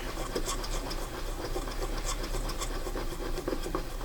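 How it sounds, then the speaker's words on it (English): A hand-cranked case trimmer cuts away the mouth of a brass cartridge case, giving a continuous close gritty scraping and rasping with faint rhythmic ticks from the turning crank. "You can feel and hear while it's trimming and cutting away the brass."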